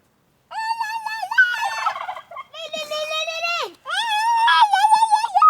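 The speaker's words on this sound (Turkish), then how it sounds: "Cevap veriyor Hindi de onlara." Three loud, quavering turkey gobbles in a park follow one another with only brief gaps, close and clear, with no talking over them.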